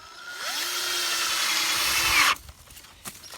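A power drill drives a screw into a wooden block on a shed sill, its motor whining up in pitch for about two seconds and then stopping abruptly, after which a few faint knocks follow.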